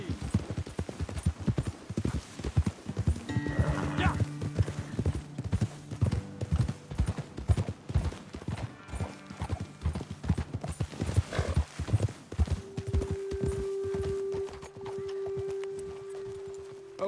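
Horses in Red Dead Redemption 2 clip-clop along at a walk, with hooves thudding up close in an uneven rhythm and a whinny breaking through, set against a tonal game score.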